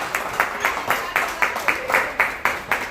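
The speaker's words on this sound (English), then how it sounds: "Y'all clap." A small audience claps in a steady rhythm, about ten sharp, evenly spaced claps over a low room murmur, moderately loud and fairly close.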